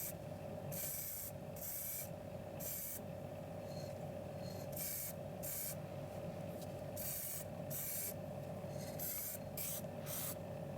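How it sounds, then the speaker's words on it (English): Spray painting, with hissing bursts of spray starting and stopping irregularly over a steady background hum, moderately loud and continuous throughout. "we're getting some spray painting going"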